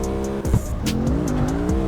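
Drift car tires squealing in the video game CarX Street on PC, a loud sustained screech over steady engine drone, with short pitch sweeps as the car slides.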